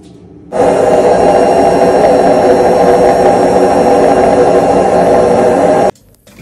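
Front-load washing machine draining with a worn drum bearing, a loud, harsh, steady roaring drone that starts abruptly, holds unbroken for about five seconds, then cuts off.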